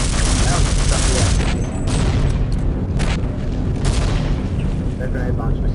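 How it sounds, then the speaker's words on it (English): Grenade launcher explosions in Half-Life boom heavily and continuously, with loud blasts overlapping in a dense, roaring barrage. "That grenade launcher sucks."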